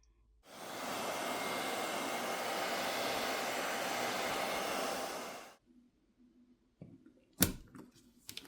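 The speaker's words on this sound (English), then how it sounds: "heat needs to be applied to the back plate using either a hairdryer or a heat gun to loosen up the adhesive underneath" A hairdryer runs at a steady loud roar for about five seconds as it heats the back plate of a Lava Agni 3 phone to loosen the adhesive, then cuts off, followed by quiet handling clicks and a sharp knock.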